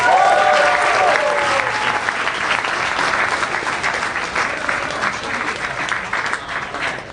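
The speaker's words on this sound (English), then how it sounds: "Please, a big round of applause for Mateo Lane, everybody." A live comedy podcast audience applauds and cheers in a dense, loud burst that slowly thins out. A voice speaks briefly at the start.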